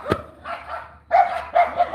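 Several dogs bark in short loud bursts, one near yelp at the start followed by clusters of barking from a few animals, with no talk over it.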